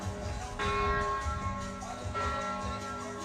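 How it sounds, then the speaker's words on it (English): Bells ring out at a 3x3 basketball event in Debrecen, bright sustained tones that strike twice and keep sounding over a low murmur of crowd noise. "You know what that means in Debrecen when you hear the bells ringing?"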